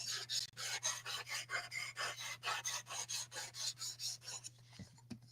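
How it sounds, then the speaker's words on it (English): Knife blades are drawn across a sharpening stone in a steady rhythm of close, raspy strokes, about twenty evenly spaced scrapes before a pause and a couple of soft knocks. "Getting these all nice and sharp for whoever they go to."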